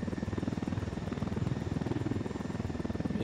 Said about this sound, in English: Oh gosh, this helicopter's not doing so hot.